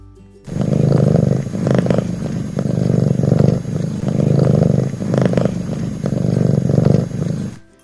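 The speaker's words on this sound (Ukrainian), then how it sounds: "Ось послухайте, як муркоче котик." A cat purrs loudly and close up, a low rumbling vibration rising and falling in steady breathing cycles.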